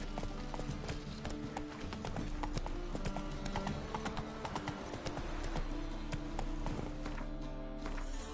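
Hooves of the horse Roach clip-clop at a steady walking rhythm in a video game, crisp repeated strikes over a low ambient hum, with no talk over them.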